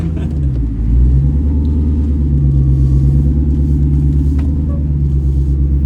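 A Jeep grinds up a rock on an off-road trail with all four tires locked together, its engine giving a loud, steady low rumble with a slight surge near the start.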